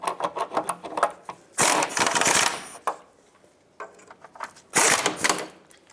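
Bolts being started and snugged on a splash shield under a 2003-09 Toyota 4Runner, a run of small close metallic clicks and ratcheting bursts with pauses between.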